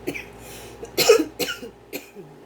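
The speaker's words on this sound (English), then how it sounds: "I'm sorry, I don't know why I suddenly have to cough." A few close, sharp coughs in quick succession, with a short throat-clearing sound between them, and no talking.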